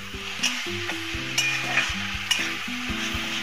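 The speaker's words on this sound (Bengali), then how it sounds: "দিয়ে এবার এটা আমি ভালো করে কষাবো, একটু ভালো করে কষিয়ে নিতে হবে।" A Punjabi-style spinach mixture sautéed in a pan, a soft constant sizzle broken by a few scraping stirs, with steady tonal music over it and no talking.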